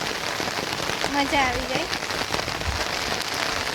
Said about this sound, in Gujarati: એટલું સરસ મોસમ છે ને વરસાદ પડે છે